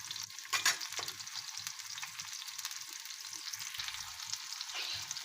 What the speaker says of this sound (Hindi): और हल्का सा फ्राई कर लें